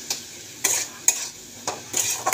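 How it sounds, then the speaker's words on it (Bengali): Spice paste with tomato and green chili sautés in a pan, heard as a soft sizzle punctuated by about five distinct spatula scrapes and clinks against the metal at an uneven pace, close and clear, without talking. "এবার মশলাটাকে একটু কষিয়ে নেব।"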